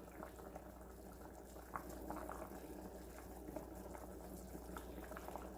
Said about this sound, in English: But we're going to let them boil.